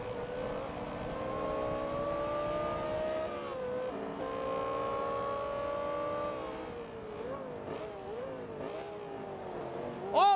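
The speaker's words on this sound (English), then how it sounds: "That Carrera sounds insane" A Porsche Carrera engine in Forza Motorsport 2 drones steadily at high revs, its pitch stepping up through gear changes and dipping briefly before climbing again, loud and continuous.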